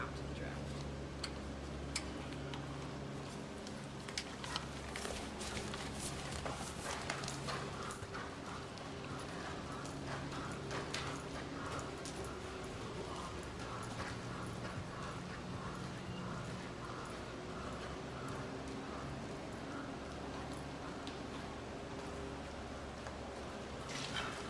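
Horse hooves clip-clop at a walk during riding practice in a stable setting, a steady ticking rhythm running throughout beneath an instructor's talking voice.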